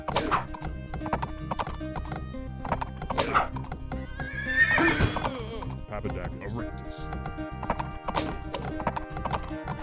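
Horse archers in the Age of Empires video game, rapid galloping hoofbeats with a neigh in the middle, layered over busy game sounds and someone talking.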